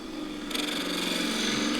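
A wood lathe turning part of an old table leg while a gouge cuts it, a steady whirring scrape that grows louder and brighter about halfway through and then holds evenly.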